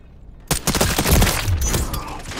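Loud gunfire in a shooter game breaks out suddenly after silence, with a quick cluster of shots followed by ringing echoes and a rumbling tail.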